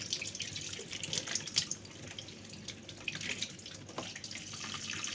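Tap water runs and drips into a sink as salted fesikh fish is washed by hand, a steady close splashing with irregular drips and small knocks.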